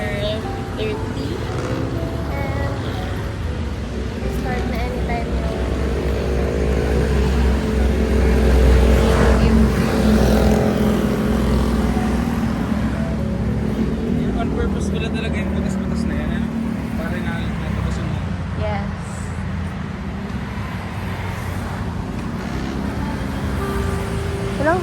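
A car passes close by on a city street near a luxury buffet venue, its engine swelling to a peak midway and then fading, over steady traffic rumble with people chatting nearby.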